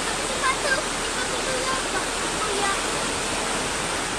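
Muddy floodwater rushing from an overflowing creek in Alabel, Sarangani after heavy thunderstorm rain: a continuous broadband roar of fast-moving water, steady and fairly loud, with faint chirps over it.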